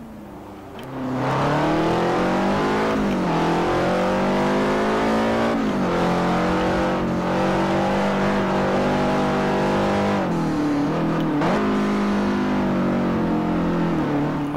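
Race car engines roar loudly and continuously in Forza Motosport 4, a Ferrari among them, revving up and down through gear shifts with a steady droning tone and no speech over it.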